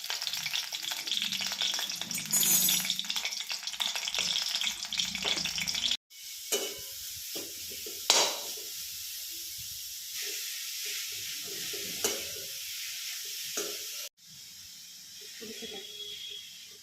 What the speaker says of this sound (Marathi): छान मेल्ट झालं की मग त्यामध्ये गाजर टाकायचं.